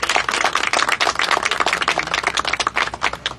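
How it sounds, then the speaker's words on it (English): A crowd at an outdoor playground dedication applauds to welcome a speaker. Dense, steady clapping from many hands carries on without pause. "Let's give her a round of applause."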